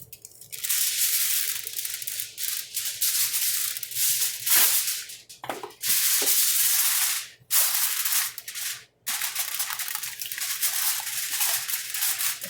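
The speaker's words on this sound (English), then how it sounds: "now you are going to cover with your aluminum foil" Aluminum foil is pulled and pressed over a baking dish of scalloped potatoes, a loud close crinkling and crackling in long bursts with brief pauses as the sheet is handled and crimped around the edges.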